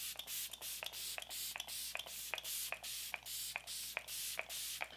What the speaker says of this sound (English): So I'm gonna go ahead and lock it in with the Flower Beauty Seal the Deal Hydrating Finishing Spray.